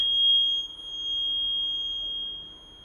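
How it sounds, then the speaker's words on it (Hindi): A steady, high-pitched electronic beep from a 2024 TVS Jupiter 125 scooter's side stand alarm, sounding with the scooter on and stand down, continues alone, cutting off near the end. "एक चीज जो मुझसे छूट गई वो है साइड स्टैंड अलार्म"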